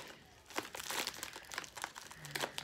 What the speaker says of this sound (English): Let me just cut this open.